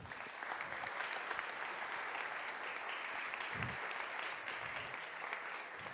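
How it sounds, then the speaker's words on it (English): Applause from an event audience for the finalists at a Red Bull Basement national final, a steady wash of many hands clapping throughout, moderately distant and even in level. "Maybe we can give an applause for all of them."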